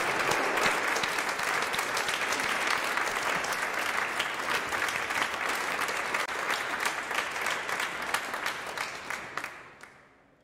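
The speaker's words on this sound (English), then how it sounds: "Can we give them a round of applause?" Wedding guests applauding the newlyweds inside Chester Cathedral, a large crowd clapping steadily and loudly for about nine seconds in a reverberant space before the clapping thins out and fades to a few stray claps.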